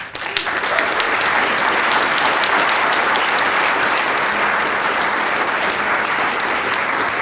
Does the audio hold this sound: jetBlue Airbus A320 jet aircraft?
no